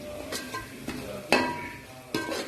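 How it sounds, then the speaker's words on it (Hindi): Spice masala of coriander powder and garam masala roasts in a pan under a soft sizzle, punctuated by several sharp scrapes and taps of a spoon stirring against the metal, with no one talking. "इसको मैं अच्छी तरह से भून लूंगी मसाले को"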